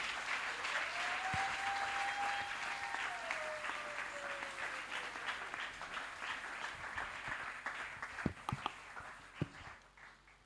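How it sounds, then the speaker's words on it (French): A church congregation at an evangelical centre applauds to welcome a pastor, sustained clapping under a rising and falling sung or held tone, thinning toward the end with a few louder knocks. "sous vos applaudissements, veuillez accueillir le pasteur Cass Kaniki."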